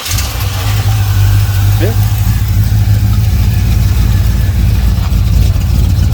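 1986 Chevy car engine fitted with new spark plugs cranking over and settling into a loud, steady low idle, close to the microphone, with a brief voice heard over it.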